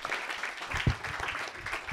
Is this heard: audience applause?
yes